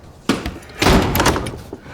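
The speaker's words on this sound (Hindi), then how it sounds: "दरवाजा बंद करो।" A door is shut in a tense indoor movie scene, landing as a sharp thunk followed by a louder slam and rattle, close and prominent.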